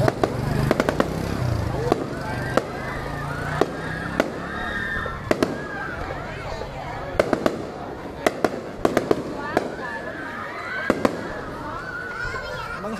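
Fireworks bursting over Tra Vinh city: a sharp crack and pop at irregular intervals, some near and loud, over a constant crowd murmur and chatter, with people talking throughout.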